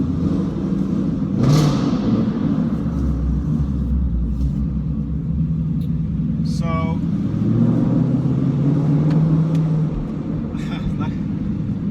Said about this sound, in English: I have to actually talk over the exhaust when I'm inside the garage, especially on that initial cold startup